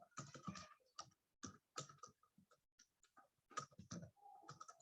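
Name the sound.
typing code on a computer keyboard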